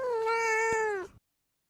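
A cat gives a single long, drawn-out meow, close and fairly loud, ending abruptly into silence.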